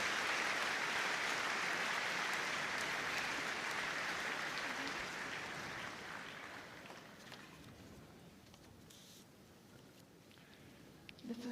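Sustained applause from a large audience in the main ring at Crufts 2022, loud and steady at first, then gradually thinning and fading toward the end.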